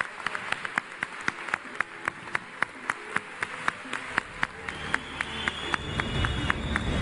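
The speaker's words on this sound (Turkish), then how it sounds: "Halit Akçatepe'yi alkışlarla sahneye davet ediyoruz efendim." An audience at a stage ceremony claps in steady, rhythmic unison, sharp regular beats carrying through a large hall while a broader wash of applause swells toward the end.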